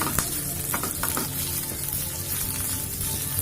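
Cheese samosa filling with broken potatoes being mixed in a hot pan sizzles steadily, with soft scraping stirs and a few taps, close up and without talking.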